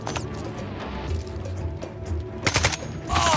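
Gunfire in the Jagged Alliance 3 video game, rapid, dense bursts of shots with louder cracks toward the end, over a busy background of game sound.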